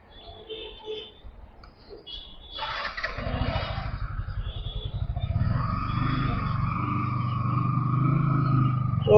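A motorcycle engine starts and revs steadily while riding toward a petrol pump, loud and close, rising toward the end.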